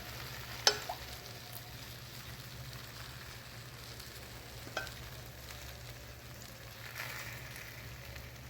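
Syrup poured over a hot tray of baked goulash pastry, giving a soft, steady crackling sizzle with a couple of faint clinks, quiet and continuous.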